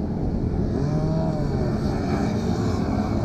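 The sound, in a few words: Honda CB300 motorcycle engine on a kart track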